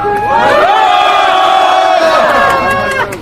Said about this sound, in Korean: 정말 큰 함성 부탁드리겠습니다